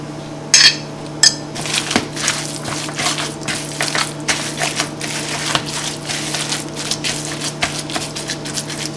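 Ground food being mixed by hand with sautéed vegetables in a bowl, producing soft squishing and clattering sounds with a couple of sharp knocks near the start, close and fairly steady, with no talking.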